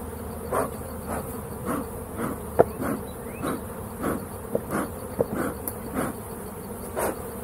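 Steady insect buzzing from bees, with repeated louder swells coming and going every half second or so, close by and with no talking.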